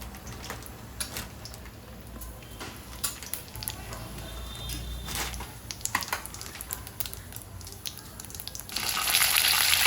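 Asafoetida and spices fall into hot frying oil in a home kitchen pan, giving a continuous crackling sizzle with scattered sharp pops and ticks that grow louder and denser toward the end.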